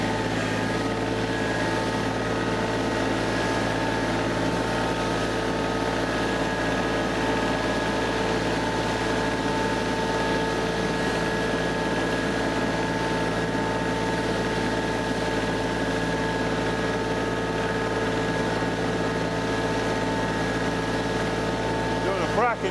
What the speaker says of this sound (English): This is actually Suton's first sweeper brush for a compact tractor.